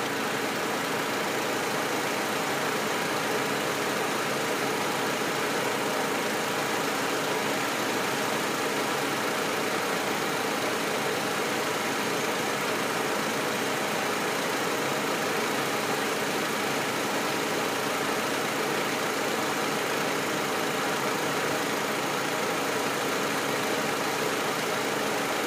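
A 2005 Pontiac Sunfire with the 2.2 engine idles in a steady, unbroken drone, loud and close, holding an even tone for the whole stretch with no voices.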